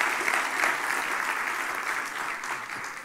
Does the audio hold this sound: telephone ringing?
no